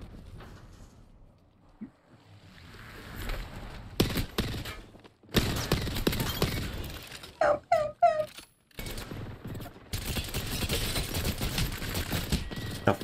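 Gunfire in the Apex Legends video game, with rapid automatic bursts and shot clusters separated by short quiet gaps, heard close and loud amid game effects, with people talking.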